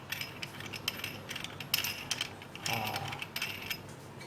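A basin wrench loosening a kitchen tap fitting under the sink in an HDB flat: irregular metallic ratcheting clicks and scrapes at close range, with no talk.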